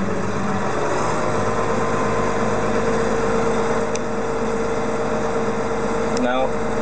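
In a video game mod, a JCB Fastrac tractor's diesel engine runs at a steady idle-like drone while reversing, with a couple of faint clicks near the end.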